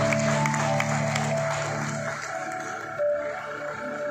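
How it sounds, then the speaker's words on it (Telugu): A wedding crowd claps steadily for several seconds, the applause continuing under sustained musical tones that fade slightly toward the end. "అందరూ ఒకసారి చప్పట్లు కొడదాము."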